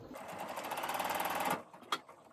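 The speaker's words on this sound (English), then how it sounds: "I think I can get one more row of stitching down here." A sewing machine stitches a row on a fabric travel cup cozy in a fast, even burst of close needle strokes. It stops abruptly after about a second and a half, followed by a small click.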